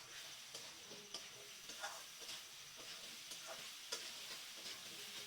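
Potato and eggplant are stirred in a pan with salt and sugar for a Bengali palong bori labra, giving a steady faint sizzle broken by soft scraping strokes of the spatula.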